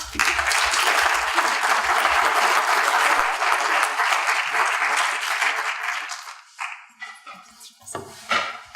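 An audience in a lecture room breaks into sustained, loud applause to welcome speaker Jennifer Newsom, with steady clapping for several seconds before it thins out into a few scattered claps.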